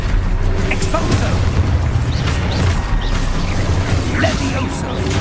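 The Expulso explosion spell from the video game Hogwarts Legacy bursts with a deep, rumbling boom, one loud blast amid continuous game effects and crackling debris, with a voice calling out over it.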